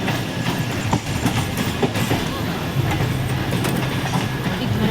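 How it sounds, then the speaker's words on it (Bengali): A passenger train running just after leaving Sealdah station on the way toward Siliguri makes a loud, steady rolling rumble with faint rhythmic wheel clatter, heard from on board and continuing without a break. "আমাদের ট্রেন শিয়ালদা স্টেশন থেকে ছেড়ে দিয়েছে।"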